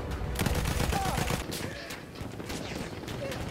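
An AA gun firing in the video game Battlefield, a dense run of repeated loud bursts over busy battle noise, with excited voices talking throughout.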